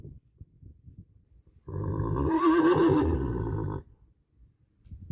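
A stallion gives a loud, close neigh lasting about two seconds, a rising and quavering whinny set between stretches of quiet.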